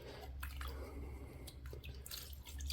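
Optimum No Rinse wash solution poured into an Adams foam sprayer, heard as faint, close trickling and scattered drips of liquid.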